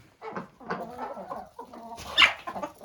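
A female duck, newly acquired for a backyard coop, gives a series of nasal quacking calls at close range, with a louder burst near the end.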